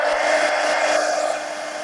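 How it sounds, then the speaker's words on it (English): A heat gun blows steadily at close range to dry ink on a gargoyle sketch, a continuous broadband whoosh that holds level throughout with no talking. "now I got to take a minute really, to heat gun this and dry it"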